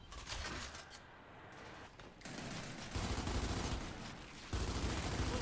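Sustained automatic gunfire from a Gears 5 ranked Control multiplayer match, dense bursts rolling continuously and growing louder and heavier in the final seconds, with no talk over it.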